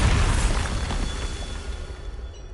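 A Bombarda spell blast in Hogwarts Legacy booms loudly at the start, then rumbles and fades over a couple of seconds with scattered crackling debris.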